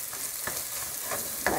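Thyme stirred into a sizzling cooking pot, a steady close frying hiss with occasional scraping strokes of a utensil, the last one the loudest.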